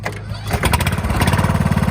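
A lawn tractor engine, either a John Deere X330 V-twin or a Simplicity Regent single cylinder, runs close by. It starts softly, then settles into a loud, steady, throbbing low rumble with a fast regular pulse.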